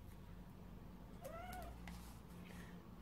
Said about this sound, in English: my kitty's sitting on the window and she's making lots of noises watching out